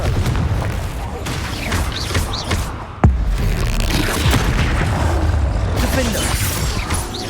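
The Confringo fire spell detonates in Hogwarts Legacy combat, a sharp explosive boom near the three-second mark amid continuous rumbling battle noise, crackling blasts and shouted spell incantations.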